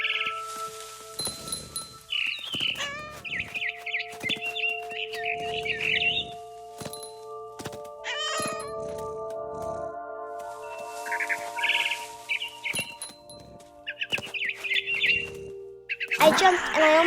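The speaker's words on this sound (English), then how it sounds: "Then I heard chirping outside my window. It was a barn swallow going back to her nest." A barn swallow chirps in a video game, bursts of bright tweets and trills coming in repeated phrases over a faint steady tone, fairly close and alone, with quick clicks scattered between calls.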